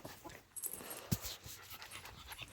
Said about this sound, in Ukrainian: Так, хороший песик, хороший песик.